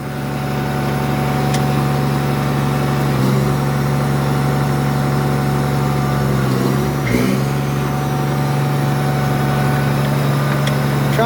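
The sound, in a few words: Case 4490 tractor engine running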